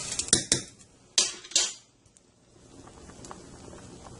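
A metal lid is set onto a pot of boiling quinoa on a stovetop, giving several sharp clinks and clatters in the first two seconds before a quiet simmering hiss.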